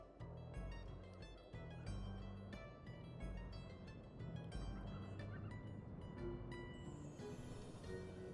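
Birds attack in the Sly 2: Band of Thieves video game, and their gobbling, honking squawks repeat among dense game music and effects that run steadily throughout.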